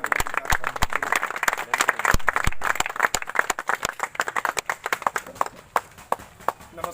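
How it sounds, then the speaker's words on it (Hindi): Audience applause welcoming a guest at a community meeting in Jharkhand, a dense run of sharp, uneven claps that swells in the middle and thins toward the end, loud and close with no voices over it. "ताली इतना अच्छा बजे इनका स्वागत में"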